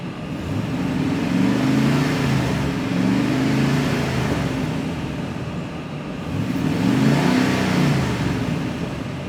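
A Chevy 5.7 Vortec V8 with a failing head gasket runs steadily and close, rising in two smooth rev swells that ease back down between them.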